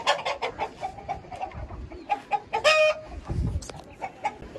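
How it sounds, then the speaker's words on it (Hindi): Hens in a farmyard cluck in short, repeated bursts close by, with one louder squawking call rising above the others midway. "हमारी मुर्गियां जो थी अपने अंडों पे चढ़ के अंडे तोड़ने लगी थी"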